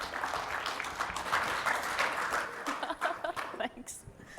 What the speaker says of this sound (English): Can we give a warm round of applause and welcome Vanessa and Shelly to the stage?